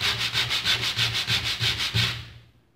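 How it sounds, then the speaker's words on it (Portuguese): Sandpaper rubbed firmly along a wooden popsicle stick for handicraft finishing, about nine rhythmic back-and-forth strokes close up with no talking, then fading to silence. "Você vai pegar uma lixa aí, ó, o palito, e você vai lixar bem esse palito"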